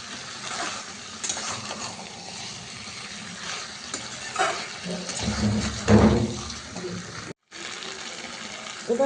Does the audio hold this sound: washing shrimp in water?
yes